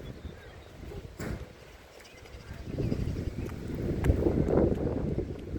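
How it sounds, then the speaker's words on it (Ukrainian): Strong wind buffets the microphone in low rumbling gusts, swelling louder toward the end. "Дуже сильний вітер."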